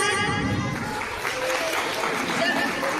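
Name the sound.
audience applause at school annual day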